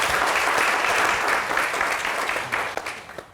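Loud, dense audience applause at a televised year-end awards broadcast, a continuous roar of clapping that thins slightly toward the end as a few separate claps stand out.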